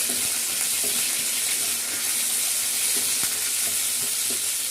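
Mustard seeds crackle and spit in hot oil for a nutmeg pickle, a dense steady sizzle with scattered sharp pops running throughout, close and moderately loud, with no voices.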